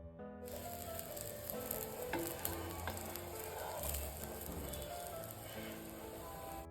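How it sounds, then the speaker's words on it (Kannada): Brinjal slices fry on a tawa over a medium flame, giving a steady, close, crackling sizzle that runs unbroken with small pops and no talking. "ಮೀಡಿಯಮ್ ಫ್ಲೇಮಲ್ಲಿ ನಾವು ಫ್ರೈ ಮಾಡ್ಕೋಬೇಕು."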